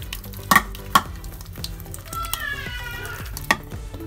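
Masala spices with salt and turmeric stirred and frying in a pan for an egg curry, soft sizzling under scattered sharp spoon-on-pan clinks and scrapes, fairly close.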